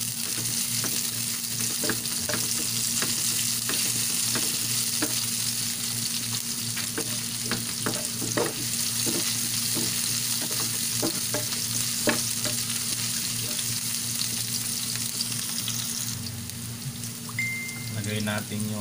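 Onion and garlic sautéing in a hot pan, a loud continuous sizzle with frequent spoon taps and scrapes, close up, with a steady hum underneath and no talk.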